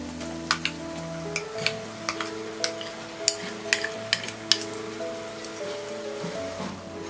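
Tomatoes going into paneer bhurji (Indian scrambled cottage cheese) in a pan, with a steady frying sizzle and several sharp stirring clacks of a spoon against the pan, close and moderately loud, with soft background music and no talk.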